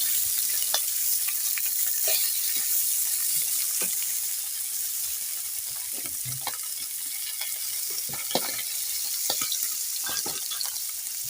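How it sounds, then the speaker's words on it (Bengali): Fish fries in a pan outdoors in a Sundarbans village, a steady close sizzle with scattered pops and crackles throughout, without speech. "মা এই ফুল গাছের নিচে মাছ ভাজছে"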